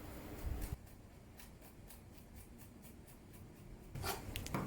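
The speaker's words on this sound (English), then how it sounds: "coarsely chopped some garlic" A knife coarsely chops garlic on a cutting board, a run of light, evenly spaced taps heard close up and alone, with a couple of louder knocks at the start and end.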